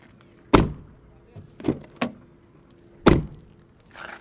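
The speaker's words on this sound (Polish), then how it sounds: "posłuchamy, czy drzwi się zamykają z należytą kulturą" Car doors on a DR 6 shut with several solid thunks, two sharp and loud and a few softer ones, spaced out against a quiet background.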